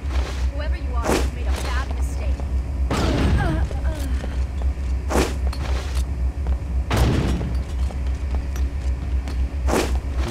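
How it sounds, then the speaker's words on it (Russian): A grenade blasts in the video game Deus Ex: Invisible War, several heavy booms landing a few seconds apart over a constant droning game background, with someone talking in between. "А может туда гранату бросить?"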